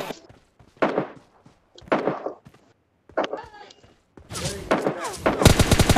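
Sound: gunfire in PUBG Lite video game

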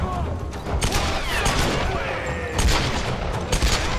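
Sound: gunfire from the video game Tomb Raider

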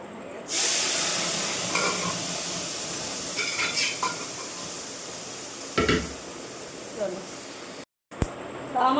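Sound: chana dal (split chickpea lentils) boiling in a pot

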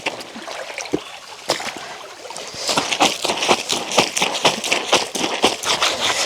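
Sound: stream flowing with water

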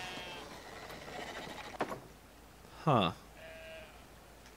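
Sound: sheep bleating in video game Brothers: A Tale of Two Sons

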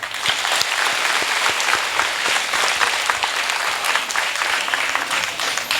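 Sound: audience applause

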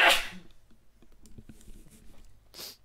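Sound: sneeze picked up by the microphone

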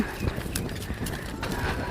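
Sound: cows being led along, hooves walking

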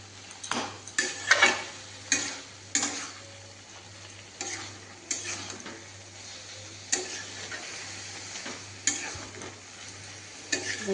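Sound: coconut and pumpkin being stir-fried in a pan

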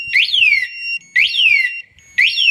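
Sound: Run Alarm car anti-theft alarm siren

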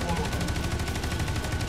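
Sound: gunfire from a video game weapon

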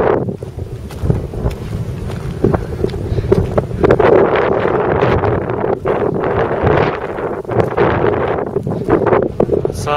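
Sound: wind outdoors on a nature walk

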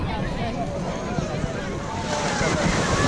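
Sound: beach with waves and wind

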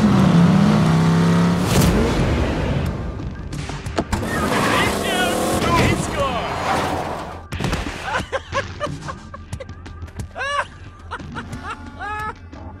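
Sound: car engine revving in video game Tales from the Borderlands

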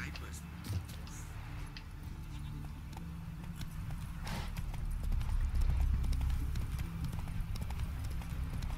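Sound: horse Roach hooves trotting in video game The Witcher 3

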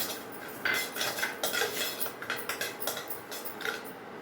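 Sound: cumin and spices being added to a pan and stirred

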